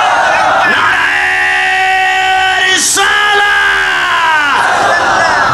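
A large crowd at an Islamic waz gathering during an urs celebration roars back in unison, sustained loud massed voices with a brief sharp peak midway, answering a call of Nara-e-Takbir.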